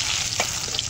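Chopped onion and crushed garlic frying in oil over a clay stove fire, a steady hissing sizzle with a brief stirring scrape partway through, close and fairly loud, no talk.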